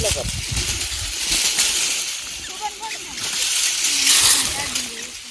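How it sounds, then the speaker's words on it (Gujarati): Water splashes and sloshes as a pot is filled at a village water source, a steady close wet churning running through the whole stretch beneath voices. "હું જ હવે આવ્યો પાણી ભરવા અહીંયા"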